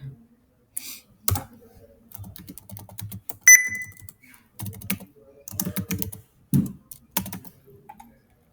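Computer keyboard typing and mouse clicks during a jQuery form-events coding session, scattered bursts of keystrokes and clicks at close range, broken by pauses, with a short tonal beep in the middle.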